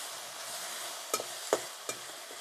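A green chilli and garlic paste fries with a soft, even hiss, while three distinct spoon clicks of stirring sound close by.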